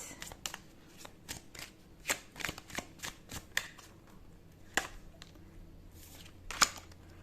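Tarot cards shuffled by hand for a pick-a-card reading: a close, rapid series of crisp slaps and riffles with brief pauses, no talk.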